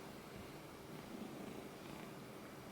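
A cat purrs in a soft, steady, continuous rumble, close by and quiet, with no voices over it.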